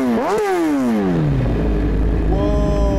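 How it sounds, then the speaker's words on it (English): A motorcycle engine cranks and fires up in the RIMS Racing simulator, a rising whine that catches, then drops into a settling idle rumble, steady and fairly loud with no talk. "Of course we have to turn the engine on."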